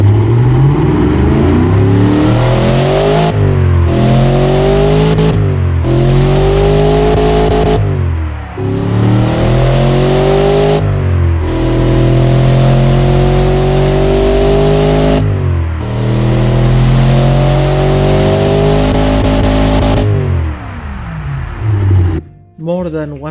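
A Ford 255 Windsor V8 fitted with a single muffler in the Automation car-building game, revved hard again and again, each loud close-up rise in pitch followed by a short drop between pulls, then tailing off near the end.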